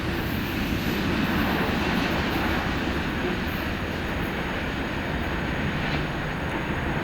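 A Norfolk Southern freight train, led by a Union Pacific SD70ACe with BNSF units, rumbles past in Springfield, Illinois, a steady, loud, continuous roar of wheels and cars holding even for the whole stretch.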